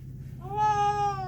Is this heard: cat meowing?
yes